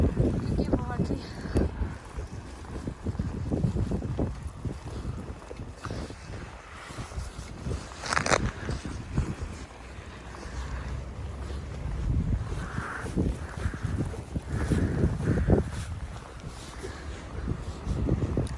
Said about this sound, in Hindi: लेकिन जो हवा चल रही है ना वो उससे भी ज़्यादा है, तो उड़ा ले रही है सब कुछ साथ में